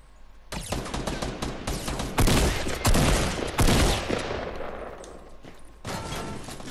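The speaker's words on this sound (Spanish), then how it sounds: "me están disparando por el lado" Bursts of gunfire in Fortnite aimed at the player, several rapid volleys close and loud, with a louder cluster in the middle and more shots near the end.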